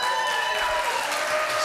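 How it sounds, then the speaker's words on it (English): A conference audience breaks into sustained, loud applause, a continuous wash of many hands clapping that fills the whole moment, with a faint tone running underneath. "I'm not fishing for the applause"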